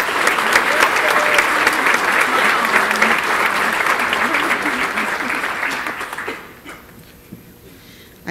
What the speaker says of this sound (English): So I'd like to give them applause for that because I'm very proud of them.